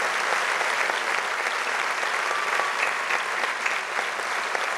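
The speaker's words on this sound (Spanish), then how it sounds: "Y si ahora toca aplaudir" Steady, dense applause from a gala audience at a 500th-anniversary celebration of the Picayos dances, sustained and even throughout with no break in the clapping.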